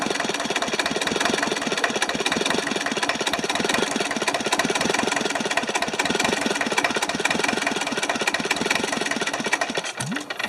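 Diesel engine of an old rusty Hinomoto tractor runs steadily under repair, a loud continuous knocking idle with fast regular firing pulses, close up and alone, with a brief change near the end.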